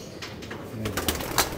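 Pigeons are released and take off, their wings giving a quick series of soft, breathy flutters that grow slightly louder toward the end, over faint background cooing.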